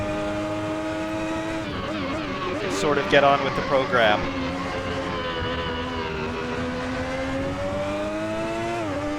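A Ferrari 641 Formula One car's 3.5-litre V12 engine screams at high revs in Assetto Corsa, its pitch rising and dipping through gear changes while someone talks over it.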